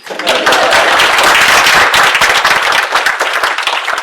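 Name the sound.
audience applause at a conference talk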